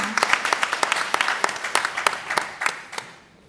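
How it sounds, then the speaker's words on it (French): Audience applause for three panelists at an entrepreneurs' panel event, a burst of many hands clapping with distinct sharp claps standing out, moderately loud and fading slightly toward the end. "je vous prie de les applaudir"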